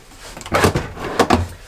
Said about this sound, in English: And then we got drawers in through here.